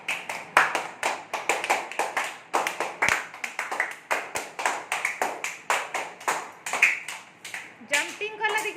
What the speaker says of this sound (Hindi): एबे कलो क्लैपिंग कलो देखिया ताली बजेलो